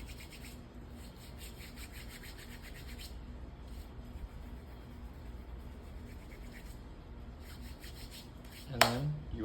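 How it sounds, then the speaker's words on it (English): Oil-paint-smeared hands rubbed together to wipe off excess paint, a close, steady dry friction rasp in repeated strokes, ending in a brief sharper scrape. "wipe off all the excess and then just rub your hands together"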